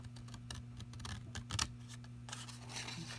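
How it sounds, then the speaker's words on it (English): Scissors snip out a paper Merry Christmas card piece while leaving a small border, giving a series of quiet, close crisp cuts over a steady low hum, with no talking. "I have my Merry Christmas here that I'm just going to use scissors and cut it out"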